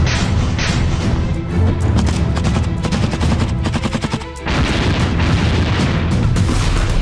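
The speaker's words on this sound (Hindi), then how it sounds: "कुर्स्क में लगी सीमा पर रूसी तोपें गरज रही हैं।" Russian artillery guns and self-propelled guns firing at the Kursk border, a loud continuous barrage of booming, cracking blasts with rapid repeated reports and a brief lull midway.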